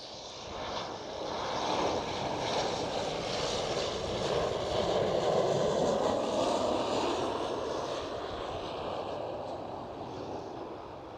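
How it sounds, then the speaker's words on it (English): An Air France airliner lands at Amsterdam Schiphol, its engine roar rising as a broad, rushing rumble that swells toward the middle and slowly fades, heard from a distance outdoors with no talking. "Very nice landing there."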